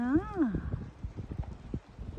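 Horse hooves clip-clopping in an uneven walking rhythm on firm ground, close by, while someone talks over them and a horse briefly whinnies.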